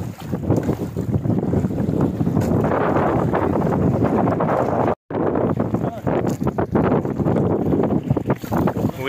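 Strong wind buffets a fishing boat out at sea, a loud continuous roar of wind noise and engine-like rumble filling the whole clip with only a brief dropout midway, as people talk over it.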